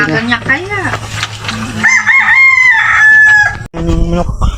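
A rooster crows loudly nearby, a long strained call, with other fowl clucking and people talking in the background.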